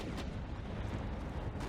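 Heavy booming blasts from a shoulder-mounted cannon firing explosive rounds in a mecha video game, a dense continuous rumble of low-end detonations with sharper bursts at the start and end, loud and close with no talking.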